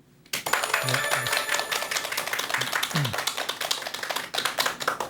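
An audience in a lecture hall breaks into loud, dense applause to welcome a retired medical school professor to the stage. The clapping starts abruptly and continues throughout, with brief speech sounds heard under it.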